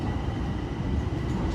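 A subway train rumbles loudly and steadily as it arrives at a station, a dense low roar of wheels and carriage noise close around the rider.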